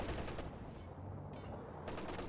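MG34 machine gun fire in Company of Heroes 2, a dense, continuous rattle of automatic bursts with a brief lull midway, steady and fairly loud throughout.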